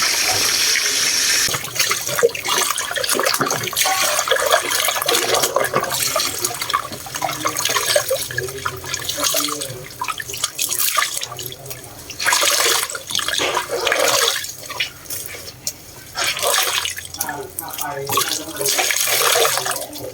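Foot towels being washed under running tap water, a continuous close gush and splash of water with brief pauses and sloshing as the cloth is handled, with faint voices at times.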